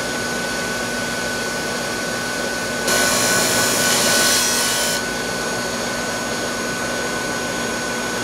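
Spindle sander shaping a wooden cigar box guitar headstock: a steady, close electric motor whine with a louder, harsher stretch of abrasive sanding in the middle as the wood is pressed against the spindle.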